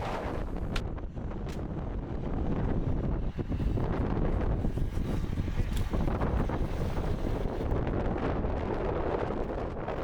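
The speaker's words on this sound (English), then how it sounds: "The wind was fierce, and even though conditions were hard" Fierce wind on a mountainside in Australia at sunrise during a mixed climbing ascent roars and buffets the microphone in a loud, continuous rush that rises and falls in gusts.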